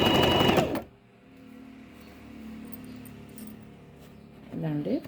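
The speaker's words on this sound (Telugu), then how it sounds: "కొంచెం చీర పారుణంగా కుడుతున్నాను అనమాట" A sewing machine stitching a saree: a short rapid burst of whirring stitches, then a quieter stretch with a low steady hum and faint handling, and a second brief run of the machine at the end.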